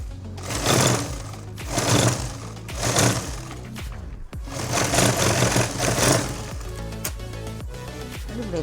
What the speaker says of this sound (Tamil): இப்படி பான் தையல் போட்டுக்கணும்.